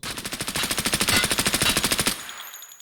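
An AS VAL suppressed rifle fires in a video game as a fast, steady burst of about thirty close, crisp shots over two seconds, then cuts off into a short fading tail.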